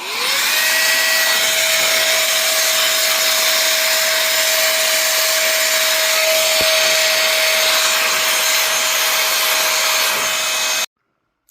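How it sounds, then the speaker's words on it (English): Compressed air blasts steadily to blow dust out of a Sony Trinitron Wega KV-20FS100 CRT television, a loud continuous hiss with a tonal whistle that stops abruptly near the end. "let's go ahead and use our favorite toy and blow the dust out of the CRT"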